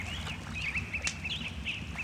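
Game ambience mixed in Wwise and Unity, with ducks quacking in short repeated bursts and chirping birds layered over a steady low background bed.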